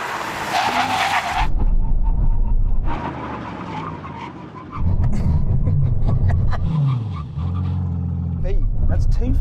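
An Aston Martin brakes hard during a brake test at a drag race event, with loud tire skidding and engine noise over about nine seconds, while people talk.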